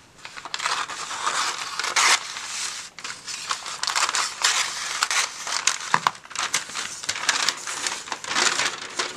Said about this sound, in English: I have this packing paper, and I think I'll just cut a piece of this.